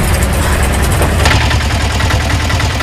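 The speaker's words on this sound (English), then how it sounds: "this tuk-tuk has been running on biodiesel fuel for the past 6 months" A tuk-tuk engine running on biodiesel fuel rumbles loud and close, a steady, throbbing idle with no voices over it.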